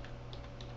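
Typing on a computer keyboard while entering a repository address in Ubuntu: quick, close keystrokes tap out in a steady run over a low constant hum, with no voices.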